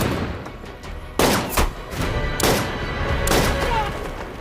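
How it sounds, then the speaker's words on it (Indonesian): A film gunfight in a desert: several loud, sharp gunshot bursts crack out in quick succession between two men, with echoing booms and a rumbling background between volleys, no talking. "terjadilah aksi tembak-menembak di antara mereka"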